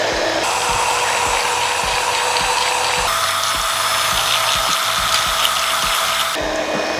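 An electric hand mixer whirs steadily through ginger cake batter of creamed butter and sugar, a continuous close mechanical drone with a rattling edge that shifts pitch as the speed changes partway through.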